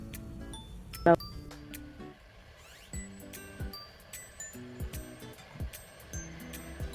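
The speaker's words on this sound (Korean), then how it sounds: "과탄산소다가 안에서 일하는 소리가 들리시죠?" Faint fizzing and crackling of sodium percarbonate with hot water in a sink drain, scattered tiny pops and clicks, quiet and close, one sharp clink early on.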